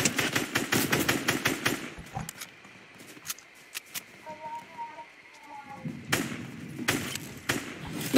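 Video game gunfire in Fortnite: a rapid burst of automatic shots, a pause with a few single cracks and small chimes, then another loud volley close by.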